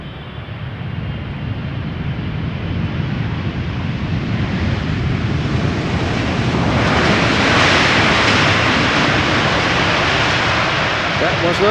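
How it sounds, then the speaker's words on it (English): A nine-year-old Boeing 777 freighter landing at Amsterdam Schiphol, its broad jet roar building steadily and peaking near the end amid wind noise, with faint talk underneath. "This is a 777 freighter, the B2027, which is 9 years old"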